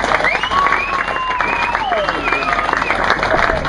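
Crowd applauding a bass fishing angler at a pro weigh-in on the Delta, steady clapping and cheering throughout, with a loud announcer's voice and whistling tones riding over it.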